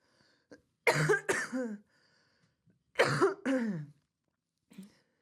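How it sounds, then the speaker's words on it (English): Two rough coughing fits, each a pair of harsh bursts, sound close by with quiet pauses between them. "me coughing"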